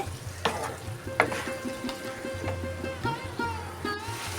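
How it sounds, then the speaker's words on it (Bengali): Mutton keema stirred with garam masala in a frying pan, sizzling steadily while a spatula scrapes and knocks against the pan in irregular strokes, close and fairly loud with no voices. "এখন আমি একটু নাড়াচাড়া করে নিচ্ছি গরম মশলাটা দিয়ে"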